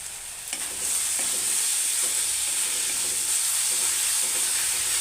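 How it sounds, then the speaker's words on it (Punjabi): Onions fry in a pan for Punjabi-style aloo matar, giving a steady, close sizzle with a bright hiss that starts after a brief quieter moment and then holds evenly throughout. "ਪਿਆਜ਼ ਸਾਡਾ ਭੁੱਜ ਜਾਊਗਾ"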